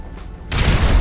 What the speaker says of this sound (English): I saw the fattest explosion I've ever seen